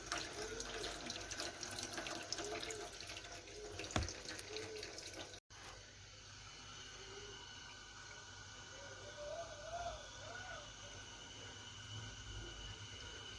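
Tap water runs steadily into a container to rinse its inside, a soft continuous splashing stream close by, with a brief knock partway through and no voices.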